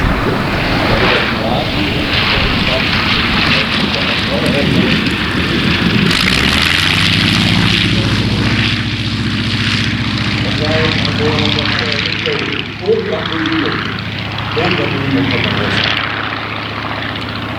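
An RC model airplane comes in to land at the Prowing 2019 model aviation show in Bad Sassendorf, its steady propeller engine drone lowering in pitch partway through, with a constant outdoor wash and people talking nearby.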